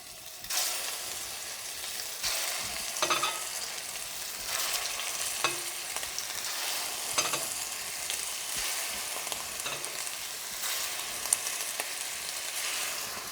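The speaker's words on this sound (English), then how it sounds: "Now that's really sizzling, so I'm going to turn it down a bit" Steady, loud sizzling of meatballs frying in hot olive oil, with occasional crackles and pops throughout, close up and uninterrupted.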